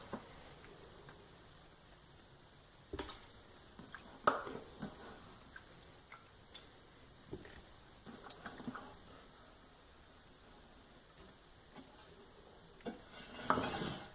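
Apples being folded into a whole-grain quick bread batter in a bowl make faint wet stirring and scraping with occasional utensil knocks against the bowl, in a quiet kitchen.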